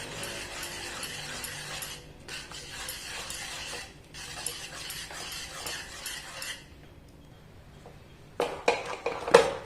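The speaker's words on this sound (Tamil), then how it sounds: "கரண்டி விஸ்க் எடுத்து நல்லா நல்லா மிக்ஸ் பண்ணிக்கலாம்" A whisk beats flour batter with coconut milk in a bowl, giving rhythmic scraping bursts with short pauses between them, then a few louder clinks at the end, with no talking.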